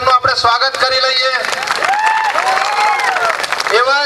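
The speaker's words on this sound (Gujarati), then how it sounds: "એમનું આપણે તાળીઓના ગણગણાટથી એમનું આપણે સ્વાગત કરી લઈએ" A crowd at a tribal community political rally claps and cheers to welcome the state party president, a dense burst of clapping that swells under a loud voice talking over a sound system.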